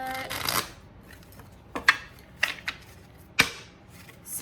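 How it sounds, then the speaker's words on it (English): Tarot cards being shuffled by hand, a riffle burst at the start followed by several sharp, separate card snaps and slaps, close and fairly quiet with no talking. "let's go ahead and shuffle these cards a little bit"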